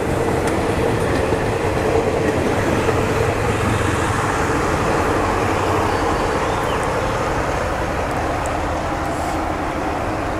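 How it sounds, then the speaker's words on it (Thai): Train rumbling and clattering steadily past the Si Ayutthaya Road railway crossing near Yommarat halt in Bangkok, a loud, close, continuous roar of wheels and cars with no pauses. "ขบวนรถนะครับก็ผ่านจุดตัดทางรถไฟถนนศรีอยุธยา"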